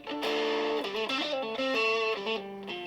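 Stratocaster electric guitar on single-coil pickups through a Rat pedal set for slight distortion, playing a melodic line of sustained notes and slides, loud and close with no talk.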